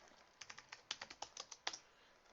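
Typing a command on a computer keyboard, about a dozen crisp, close keystrokes in a quick, slightly uneven run, alone in a quiet room.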